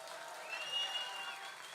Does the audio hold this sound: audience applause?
yes